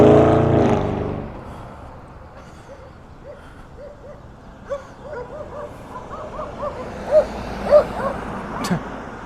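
Dogs bark on a hillside in San Pedro, Los Angeles: a series of distant yips and barks that grow louder toward the end, with brief voices at the start.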